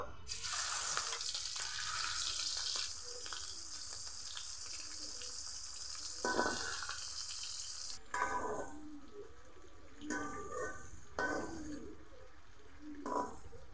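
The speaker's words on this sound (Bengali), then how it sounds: "আমি কড়াইয়ে তেল গরম করে নিয়েছি, আর মাছগুলো ভেজে নিব।" Prawns fry in heated oil in a kadai, giving a soft, continuous hiss for several seconds. Quieter sizzling follows, broken by brief flare-ups and stirring noises, all fairly faint and with no talking.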